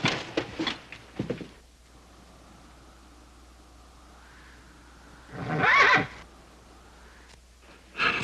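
A horse whinnies loudly in two drawn-out calls, separated by a quiet stretch, with a brief burst of sound at the very end.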